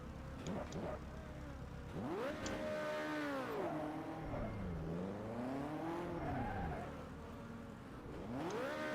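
A race car spins out in a Formula BMW racing video game, engine pitch swooping up and down with tire squeal through the spin, loud and continuous, then revving again at the end.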